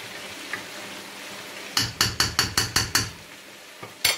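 Ginger garlic paste frying with chicken in a pan, a low sizzle under a quick run of seven sharp, evenly spaced spatula knocks against the pan, then two more scattered taps.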